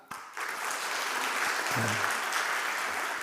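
A church congregation claps steadily together during a Sunday service, a sustained wash of applause starting suddenly and holding at an even level.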